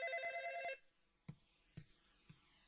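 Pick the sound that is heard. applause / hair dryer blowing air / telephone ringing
telephone ringing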